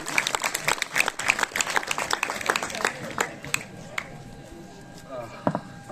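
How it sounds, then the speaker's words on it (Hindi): A school audience claps for a national games gold medalist, a burst of crowd applause with sharp individual claps that gradually thins out toward the end, with voices mixed in. "ये ताली आप बजाइए"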